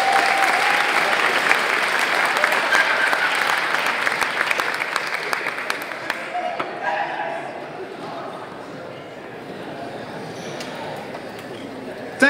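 Warm applause from the audience at an evening art and glitch event, loud at first and gradually thinning and fading over about twelve seconds, with some murmuring voices underneath.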